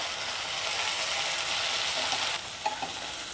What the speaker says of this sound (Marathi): टोमॅटोसुद्धा मी 2 मिनटं चांगला परतून घेणार आहे.